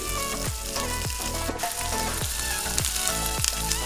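Chopped onions frying in a pressure cooker for Mangalore-style kalthappa, a bright dense sizzle with a regular rhythm of stirring strokes about every half second.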